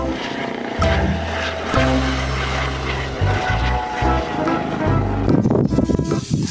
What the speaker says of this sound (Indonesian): helikopter polisi.